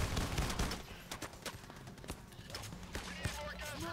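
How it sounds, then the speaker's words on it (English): Rapid bursts of submachine gun fire in the video game Payday: The Heist, bank heist level, sharp overlapping shots mixed with other gunfire and action noise, with a voice talking over the shooting. "Submachine gun."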